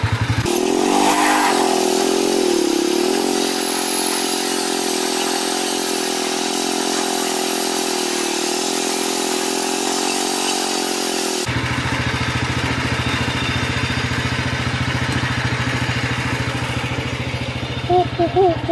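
A 1970–72 Sears Compact 7 lawn tractor engine drives in second gear, a loud, steady droning small-engine hum that holds constant for a long stretch, then shifts to a lower, rougher tone with a brief rev near the end.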